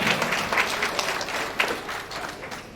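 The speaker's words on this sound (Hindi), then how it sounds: "बिट्टू जी के लिए भी जोरदार तालियों से अभिनंदन करेंगे।" Brief, steady round of audience clapping at a corporate foundation day event as a guest is welcomed to the stage, moderately loud and without talk.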